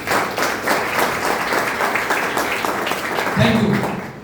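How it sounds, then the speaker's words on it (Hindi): Audience clapping fills a hall at an AWPL health and wealth awareness program, a dense, steady wash of applause for a speaker that keeps going as a voice rises over it near the end. "तो मैं चाहूंगा अब तक की सबसे जबरदस्त और सबसे शानदार वाली तालियां होना चाहिए राम बाबू"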